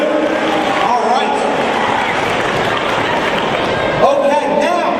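Audience at a motivational talk applauding, a loud, continuous wash of clapping with crowd noise and voices underneath, steady over several seconds.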